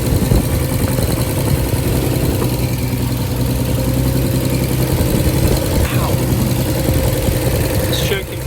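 A 1990 Nissan 300ZX Z32 engine idles steadily and close by, a continuous low hum that holds even throughout, with a brief scraping noise near the end.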